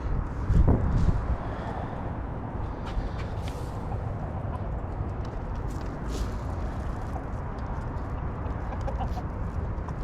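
Chickens cluck and fuss while being fed a dried mix of mealworms, beetles and flies, a steady, close, busy flock murmur with a louder flurry near the start.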